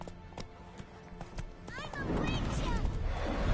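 Hoofbeats of a horse in The Witcher 3 video game, a steady clip-clop that grows louder in the second half, with a brief whinny-like call rising over it and game voices talking underneath.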